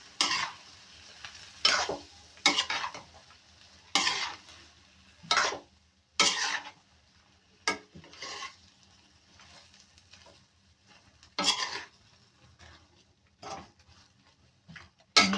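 Boiled mung beans being stirred in a cooking pan for ginisang munggo sa gata, with repeated bursts of spoon scraping and wet stirring at an uneven rhythm, close and fairly quiet, separated by short pauses, no talk.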